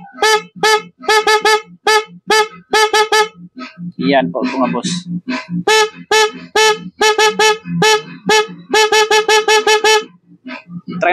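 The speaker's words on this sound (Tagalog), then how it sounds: "So tara mga boss, sound check natin tong Makoto horn na to mga bossing." Low-tone Makoto motorcycle horn rated 400 Hz, sounded in a long series of short, loud, sharp honks in quick bursts, with a brief pause where someone speaks before the honking resumes.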